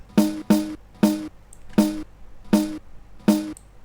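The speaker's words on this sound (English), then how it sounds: "So this is the sound of snare without any plugin." Raw snare drum hits, six sharp cracks in an uneven pattern, each with a short ringing tail, close and fairly loud.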